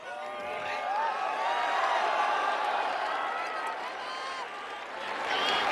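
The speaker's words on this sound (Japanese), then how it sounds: "まずは武さん、この大歓声いかがですか？" A big crowd at the Arima Kinen horse race roars and claps in a steady, continuous wall of cheering that swells slightly at the end.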